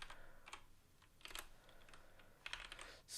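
Keys clatter on a computer keyboard in short, quick bursts of typing separated by brief pauses, close and clear with no talking.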